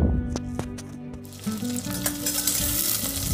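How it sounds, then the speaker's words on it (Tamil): Ten small shallots and ten garlic cloves fry in hot oil for a Chettinad chicken kulambu. A steady sizzle swells into a louder, fuller crackle partway through, with occasional utensil stirring clicks and no talking. "இப்போ நம்ம கட் பண்ணி வச்சுருந்த 10 சின்ன வெங்காயம், 10 பல் பூண்டு எல்லாத்தையும் சேர்த்து நம்ம நல்லா வதக்கிக்கலாம்"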